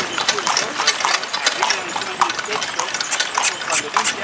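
Quick rhythmic clip-clop of a wagon horse's hooves on a hard road in Egypt, steady and close, with a motor running underneath and a voice speaking over it.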